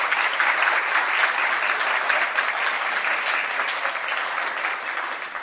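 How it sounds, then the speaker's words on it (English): Sustained applause from a banquet audience at a girls' team dinner, dense and steady, holding at an even loudness for several seconds before easing slightly at the end. "let's give our coaching staff a nice round of applause"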